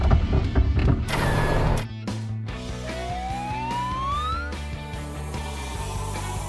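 Cartoon ambulance siren from an animated children's truck show, a rising electronic wail sweeping upward over busy music and sound effects, loud and close throughout.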